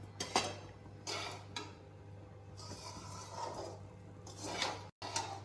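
Fried rice being mixed with salt in a pan, with several scraping and clinking strokes of a utensil against metal at irregular intervals, close and moderately quiet over a steady low hum.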